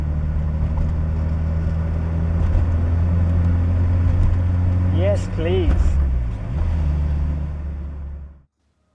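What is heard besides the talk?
stock Toyota AE86 car driving, engine sound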